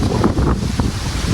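Strong wind gusts across an open farm outdoors, buffeting the microphone with loud, continuous low rumbling and roaring.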